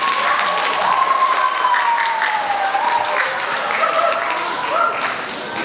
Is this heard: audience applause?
yes